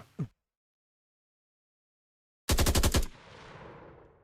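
A rapid burst of about six or seven automatic gunshots rings out from a weapon in a Vietnam-era first-person shooter game, followed by a decaying echo tail. A brief isolated blip comes before it, then silence.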